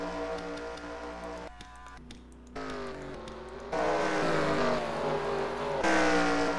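Race cars in a NASCAR-style racing video game at the Mexico 200 race drone around the track, several engine tones rising and shifting, growing louder in steps with no voices.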